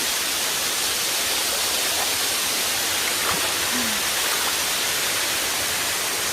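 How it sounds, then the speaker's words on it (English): Steady broadband rush of a modest waterfall at Karekare Beach in the Waitakere Ranges, New Zealand, continuous and close, with no talk over it. "The waterfall is not that strong, as you can see."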